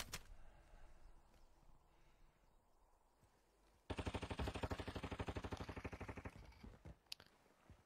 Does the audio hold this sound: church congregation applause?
no